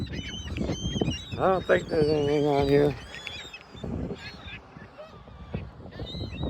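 Seagulls being fed corn flakes at Manistee, Michigan let out a burst of loud, close, honking calls in the middle, with people talking before and after.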